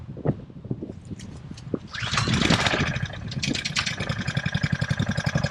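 Honda engine on a fire pump is pull-started with the choke on after sitting unused for about two months; it catches on one pull and settles into a steady, close, loud running chug.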